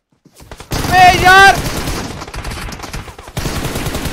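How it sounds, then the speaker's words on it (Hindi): Rapid bursts of gunfire from a bot in an online shooter video game, loud and close, starting after a brief quiet and running as a dense fusillade, with a second burst near the end and faint voices underneath. "ये भी बोट फायर दे रहा।"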